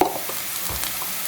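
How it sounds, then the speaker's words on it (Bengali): Slit green chilies and chopped onion frying in oil in a pan, a steady close sizzle with light stirring scrapes and small spatters, no talking. "এই চেরা কাঁচামরিচ আর পেঁয়াজ কুচিটা একটু ভালোভাবে ভাজবো।"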